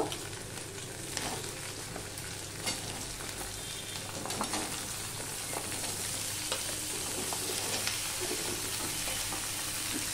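Mixed vegetables frying in hot oil over a tempering of ginger already browned red, with a steady close sizzle and occasional stirring scrapes, no voices.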